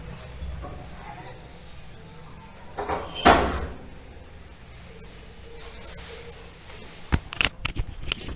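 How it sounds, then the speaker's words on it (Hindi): A home door is pulled shut with one sharp bang midway, set against steady room noise with a person talking nearby and a few small knocks toward the end. "मैं एक सेकंड मेरे दरवाजे बंद कराता हूँ"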